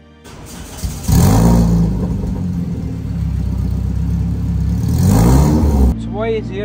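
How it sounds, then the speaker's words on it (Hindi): Toyota MR2 with a swapped-in 2ZZ engine and manual gearbox revs up sharply, holds a loud sustained high-rpm drone for several seconds, then drops off as the revs fall. "this is a 2ZZ swap manual car, और 2ZZ की जो आवाज़ होती है ना वो बहुत ही आला होती है"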